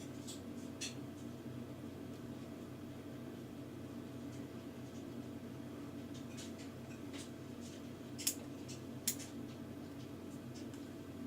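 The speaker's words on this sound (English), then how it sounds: "I'm going to go ahead and just first cut the squishy in half." Quiet snipping and soft cutting sounds of scissors cutting a foam squishy in half, with a few sharp clicks standing out over a steady hum in a still room.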